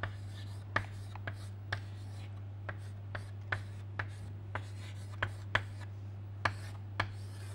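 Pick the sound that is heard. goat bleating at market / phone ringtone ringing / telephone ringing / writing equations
writing equations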